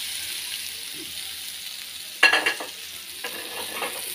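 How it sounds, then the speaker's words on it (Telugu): Hot tempering is poured into an instant onion mango pickle and stirred, a short burst of sizzling crackle that fades quickly, followed by quieter stirring sounds against soft background hiss. "ఇప్పుడు ఈ పోపుని దీనిలో వేసేస్తున్నాం."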